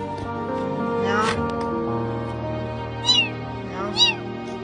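A kitten trapped in a plastic pipe at a landfill gives two short, high meows near the end, the first around the three-second mark and the second a second later, heard over a steady murmur of background voices and noise.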